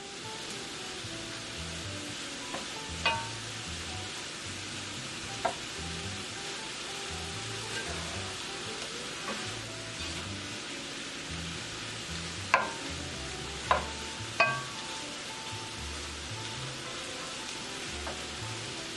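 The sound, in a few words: shrimp frying in frying pan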